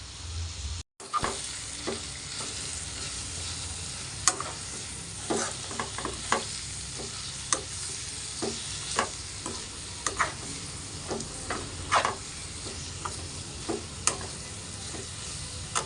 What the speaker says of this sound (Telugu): చిక్కుడుకాయలు టమాటాలు వేసేద్దాం